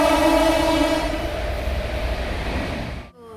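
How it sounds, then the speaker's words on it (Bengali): A train passes close by, its sustained horn-like tones ringing over a heavy rolling rumble that gradually eases before cutting off abruptly. "1 মিনিট, ট্রেন আসছে, ওয়েট করে যাও।"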